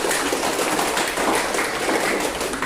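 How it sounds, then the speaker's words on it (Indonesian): Students in a classroom give a round of applause, a dense, even patter of many hands clapping that fills the short stretch without pause. "Tepuk tangan dulu untuk kita."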